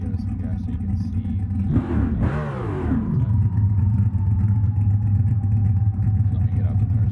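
Idling Foxbody Mustang gets a quick blip of throttle, its engine surging into a short loud rev before dropping back to a deep, steady rumbling idle.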